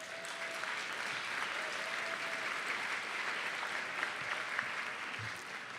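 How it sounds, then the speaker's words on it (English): Steady applause from a summit audience thanking student volunteers at a community development event, dense, even clapping sustained throughout with no pauses. "If we could give them a round of applause as well."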